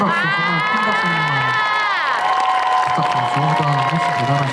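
At a Christmas concert at Paradise City, a crowd cheers and applauds loudly, with high shouts and whoops over continuous clapping and a voice carrying through the noise.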